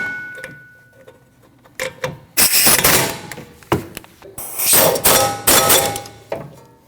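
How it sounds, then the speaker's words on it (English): Brake caliper bracket bolts are tightened on the rear of a 2013-2019 Ford Escape, heard as short bursts of loud metallic ratcheting and clanks in irregular groups, close by, with no talking. "Tighten your 2 bolts."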